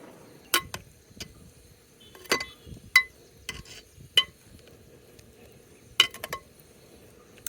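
A spoon gently stirring okra soup with tilapia and crayfish in a pot, giving sparse, faint clinks and scrapes against the metal, about eight irregular taps spread over several seconds in a quiet kitchen.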